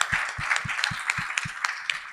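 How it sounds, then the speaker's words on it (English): Audience at an international legal conference applauding, with a steady rhythmic thump of clapping under a dense wash of many hands, moderately loud and continuous through the clip. "So let's give him a big round of applause as well."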